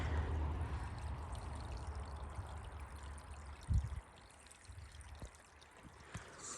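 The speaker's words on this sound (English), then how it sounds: "Look at the water running under here." Water runs in a small stream under a woodland trail, a soft continuous trickle and pour heard close by, with a brief bump partway through and no talking.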